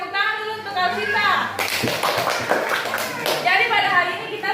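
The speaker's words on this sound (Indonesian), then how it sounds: "Tepuk tangan dulu untuk Arsita" A classroom claps for a student after her presentation, a brief round of children's applause set between a teacher's spoken remarks.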